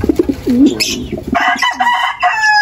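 A red check racing pigeon, a breeding cock, coos in low, rolling bursts close by, followed by brighter chirps and squeaks from other birds and some handling noise.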